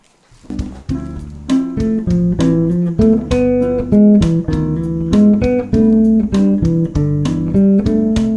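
A plucked electric bass line steps downward by half steps note by note in a steady rhythm, played alone and clearly up close.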